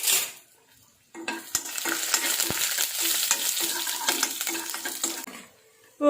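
Banana flower stir fry with curry leaves being stirred in a hot pan, a loud sizzling burst with rhythmic spatula scraping through the middle, starting and ending abruptly.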